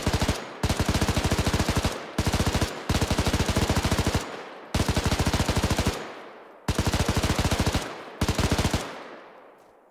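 Machine gun in Arma 3 during a Narvik battle simulation, firing in long, continuous rattling bursts. Six sustained strings of rapid shots, loud and close, are split by short pauses, with the final burst fading off.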